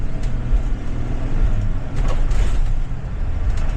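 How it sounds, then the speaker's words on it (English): A 2025 Thomas C2 school bus accelerates at full throttle while merging, a loud, steady low engine drone heard from inside the cabin with road noise and rattles, no talking. "Here's a good full throttle merge."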